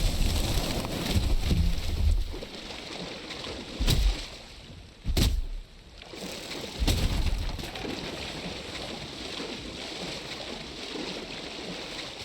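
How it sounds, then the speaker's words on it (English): A wooden boat rowing across water in Valheim, steady washing and lapping of water with wind gusts and a few louder splashing surges, moderately close, no talk. "Boat."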